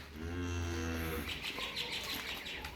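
A cow on a farm gives one long, low moo up close, followed by quieter rustling background noise with faint bird chirps.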